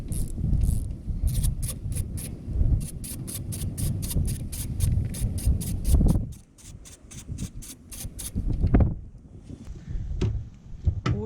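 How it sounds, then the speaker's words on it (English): A ratchet with a 5/8 spark plug socket clicks rapidly on a 2005 Toyota Corolla CE 1.8L engine, with long runs of close, crisp pawl clicks broken by brief pauses and a few scraping rubs. "5/8 spark plug socket."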